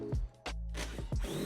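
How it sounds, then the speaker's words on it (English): A power drill bores a ventilation hole in a plastic water tank for an 80 Series Land Cruiser water setup, loud close whirring bursts with brief pauses between them. "So I'm starting with drilling a hole for ventilation"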